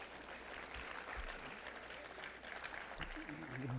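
Audience applause at a school board athletics recognition honoring a record-setting bowler, a moderate wash of clapping with some voices and chatter mixed underneath.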